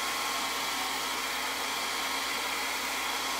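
A hair dryer blows steadily to dry paint on a board sign before stenciling, giving a loud, continuous, even whoosh with no pauses and no talking throughout.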